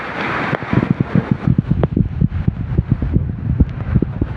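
Gusty wind buffets a microphone outdoors in Baao, Camarines Sur, with steady rumbling noise and repeated thumping gusts throughout, no voices.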